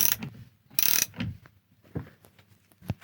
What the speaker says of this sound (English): We have our lock ring ready to go, and then we just ratchet this on.